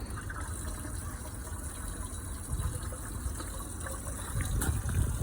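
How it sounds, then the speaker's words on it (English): Water from a rain barrel runs into a raised potato bed as a soft, steady gush that swells slightly toward the end, with a faint low hum underneath. "So let's fill this up with water, see how well she does."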